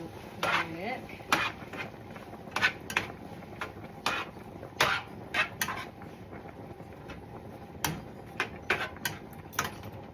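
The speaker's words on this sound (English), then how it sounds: "Then 1 can of cut green beans. Stir that in real quick." Canned cut green beans being stirred into a hamburger pie mixture, with repeated sharp spoon clicks and scrapes against a pot or bowl at an irregular rhythm, close and moderately loud.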